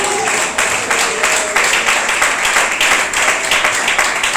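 A church congregation claps during a sermon, loud close hand clapping falling into a fairly regular rhythmic beat, about two to three claps per second throughout, with a voice briefly audible at the start.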